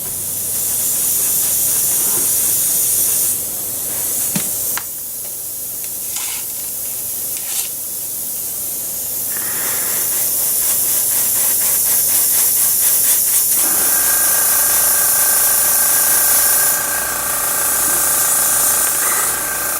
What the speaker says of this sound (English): I'm spraying at about 5 psi